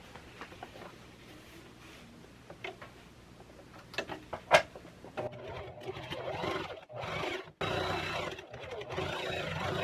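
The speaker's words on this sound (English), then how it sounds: "I'm going to go ahead and run a row of stitching along each side of the lining" A sewing machine runs a row of stitches along the sides of a fabric pad lining, its rapid mechanical whir building in the second half over a quiet room, with a few sharp ticks earlier.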